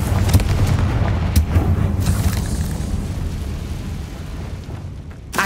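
Confringo fire blast spells in Hogwarts Legacy, a sustained barrage of booming, crackling impacts with several sharp bursts early on, then a rumbling tail that slowly fades.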